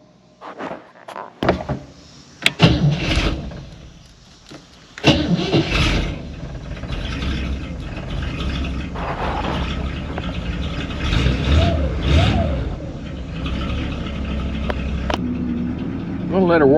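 Car engine cranking over and firing up after carburetor work, then settling into a steady, slightly uneven idle up close, with a few clunks early on and a voice talking over the running engine.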